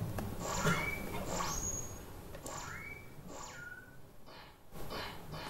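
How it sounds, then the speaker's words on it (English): Synthesized bird calls produced by a mathematical WebAudio emulator in a browser: a run of short chirps and rising whistles, repeated several times at moderate loudness over a steady noisy background, with no talking. "this is a simple bird sound emulator that I made"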